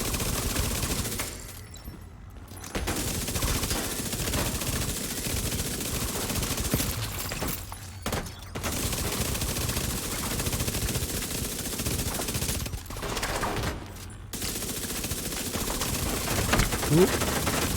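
Rapid SMG gunfire in the video game The Division 2, long sustained bursts broken by short pauses, loud and dense, with someone talking over the shooting.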